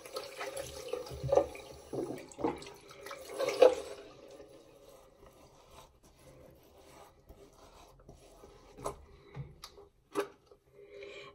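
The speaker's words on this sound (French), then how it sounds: "Donc je vais humidifier donc mon visage à l'eau." Water from a tap splashes and rubs over a face during an evening cleansing routine, a few wet bursts in the first seconds followed by quieter sporadic dabs and drips, close and fairly soft.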